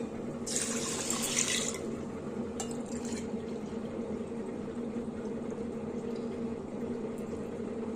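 Milk and water are poured into a pressure cooker while making a Sankranti sesame payasam with new rice and jaggery; a short, close splashing pour lasts about a second, then fades to a quiet room.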